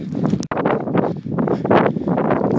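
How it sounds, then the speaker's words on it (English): Strong gusting wind on the Mount Lafayette summit buffets the microphone in loud, uneven roaring bursts, with one brief dropout near the start. "It's pretty darn windy up here right now."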